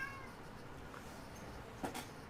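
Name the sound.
cat meowing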